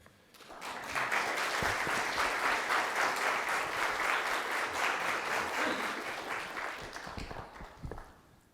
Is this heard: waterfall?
no